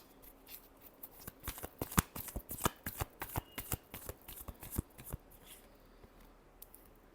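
Tarot cards are shuffled by hand in a rapid run of crisp riffling snaps and flutters, close and clear, with the bursts easing off near the end.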